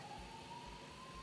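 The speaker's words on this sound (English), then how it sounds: "There's an ambulance in the background." An ambulance siren sounds far in the background as a steady, faint, drawn-out wail that holds one tone through the whole stretch, with no one speaking over it.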